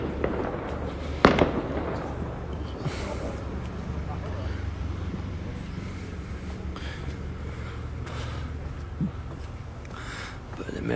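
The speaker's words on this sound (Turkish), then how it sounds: "Bu saatte hava fişek." Fireworks popping and crackling in the distance beside a river in Rotterdam before dark, a few sharper bangs over wind and outdoor ambience while a person talks.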